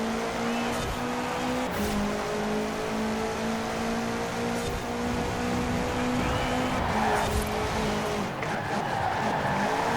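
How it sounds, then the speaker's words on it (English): A 2006 Subaru WRX STI rally car in a racing video game brakes hard on dirt, its engine note dropping while tires skid and scrabble over loose ground, steady and fairly close. "Very good braking time."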